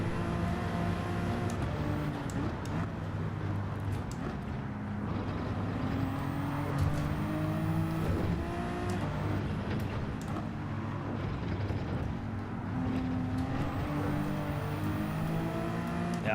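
Race car engine in Gran Turismo 7 on the Nürburgring, a steady sustained drone with rising and falling harmonic sweeps as the car shifts and accelerates, loud and continuous throughout.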